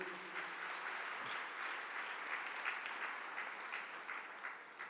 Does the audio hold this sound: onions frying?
no